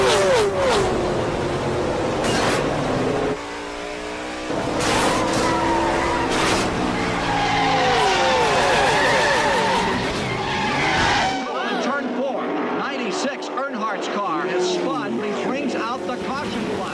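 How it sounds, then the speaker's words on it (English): Stock race cars roar around a track with tires squealing and skidding, loud and close, engine pitch sweeping up and down, with talk over the racing. "Richard Petty goes again, and here's 88 Waltrip with him."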